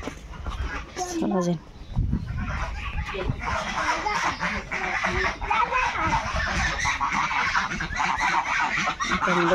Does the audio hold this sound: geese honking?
yes